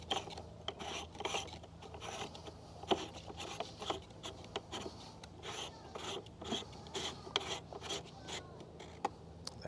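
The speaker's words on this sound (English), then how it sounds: "screw in the nozzle counterclockwise," Hand-threading the plastic impeller nozzle of a Lampuga Air electric jetboard back on, turning counterclockwise after the rear cover is fitted: close, quiet repeated rasping and scraping strokes with small clicks, steady over about ten seconds, no talking.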